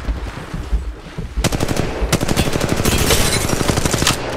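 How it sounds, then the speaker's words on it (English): Rapid automatic gunfire in the battle royale shooter Apex Legends Mobile, loud bursts of shots that begin after a quieter opening and continue densely to the end, with a separate sharp shot now and then among them. "There's more shots below us on the left as well."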